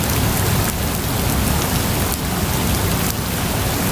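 Heavy monsoon rain pouring down, a dense, steady roar of drops hitting surfaces, loud and close, with slight dips in intensity and no voices.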